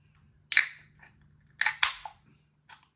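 A can of Brulo 7 Hop 7 Grain non-alcoholic IPA opened close up: a sharp tab click and hiss, then a second crack and fizzing burst, with a faint tap at the end.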